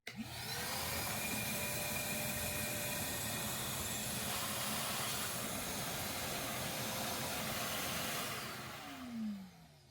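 An Armor All wet/dry vac with the utility nozzle, no bristles, sucking up water: a loud, steady motor roar with hissing airflow that holds for about eight seconds, then winds down with a falling whine.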